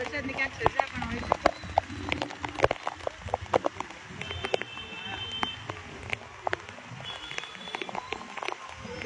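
Heavy rain falls in Dwarka, with dense scattered drops tapping hard on surfaces, a steady wet hiss under it and a few sharp knocks.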